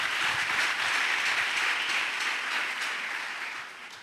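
A church congregation applauds together in one steady, dense wash of clapping that fills the room, then thins slightly toward the end.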